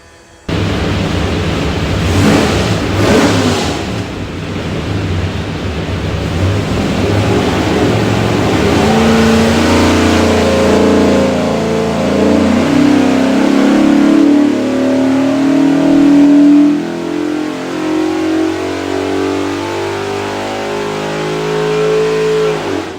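Drop-in-ready Ford 427ci V8 built for a 1974 Pantera, roaring on a shop dyno, climbing through a long sustained pull from a rough rumble to a loud rising howl, close and alone without talk.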